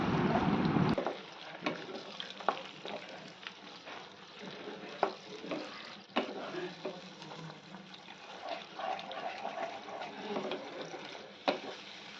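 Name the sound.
onion and capsicum frying, stirred with sauce in oil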